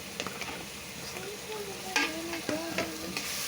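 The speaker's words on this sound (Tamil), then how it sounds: "நல்லா கிண்டிக்கணும், தக்காளி வதங்குற அளவுக்கு நல்லா கிண்டிக்கணும்" Tomatoes frying in a pan with ginger and garlic while being stirred, steady sizzle with repeated scraping strokes of the spoon, close and moderately loud, no talking.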